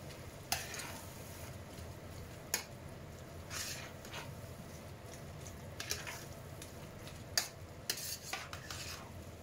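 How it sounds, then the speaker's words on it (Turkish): Spoon scraping and stirring Kayseri yağlaması filling in a frying pan, soft sizzle underneath with several sharp clinks of utensil on pan spread through, fairly quiet and close with no talk. "Güzelce karıştırıyoruz."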